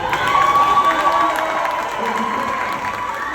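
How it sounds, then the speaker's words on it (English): Outdoor crowd at the Too $hort Way street-naming ceremony in Oakland, clapping and cheering in a dense roar with shouts and voices mixed in throughout. "Give that a big round of applause"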